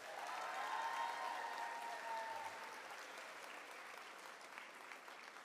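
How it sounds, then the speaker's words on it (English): Crowd applause for a student at a fifth grade moving-up ceremony, sustained clapping that starts fuller and gradually thins, with faint tonal background noise early on. "Can we give Elena one more round of applause?"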